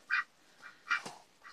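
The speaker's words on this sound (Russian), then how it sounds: "Вот у нас дети наших мам мускусных уточек." Muscovy ducklings quack in short separate bursts, three or four clear calls spaced across a moment, close and fairly loud, with no talking.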